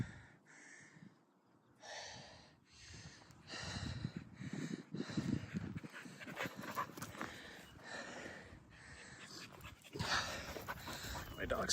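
A dog pants hard after running on a steep trail, with rapid rhythmic breaths in repeated bursts close to the microphone and occasional snorts, while a person talks and breathes heavily nearby.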